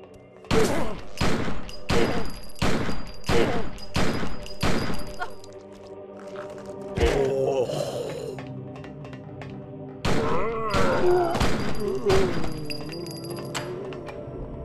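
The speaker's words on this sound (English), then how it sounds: "Back away while shooting, keeping maximum distance between yourself and the nightcrawlers." Gunfire in The Blair Witch Project Volume 1: Rustin Parr video game, a rapid run of about eight loud, evenly spaced shots, then a pause and a second burst of heavy blasts and impacts.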